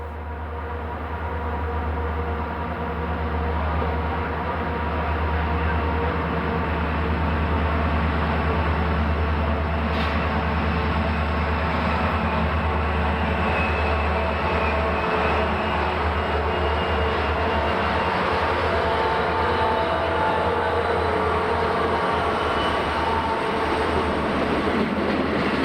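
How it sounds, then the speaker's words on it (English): Former Erie-Lackawanna SD45-2 diesel locomotives 6665 and 6664, working as Conrail point helpers, rumble past in a loud, steady roar with a deep engine drone that holds for the whole stretch, no voices. "Former Erie-Lackawanna SD45-2, number 6665, followed by 6664, are point helpers assigned to Crescent."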